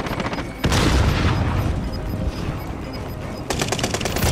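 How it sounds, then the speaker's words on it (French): A grenade explosion in Call of Duty Warzone booms loudly and nearby, followed by rapid bursts of machine-gun fire that rattle on and intensify toward the end. "J'envoie une grenade."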